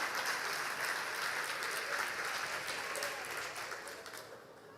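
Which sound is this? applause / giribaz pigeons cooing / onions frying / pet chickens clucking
applause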